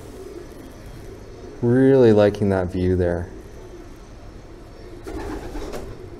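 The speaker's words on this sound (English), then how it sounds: "There goes the pigeon." Pigeons coo in a large abandoned high school, a loud close burst of throaty rolling coos followed by a quieter, more distant call over faint room ambience.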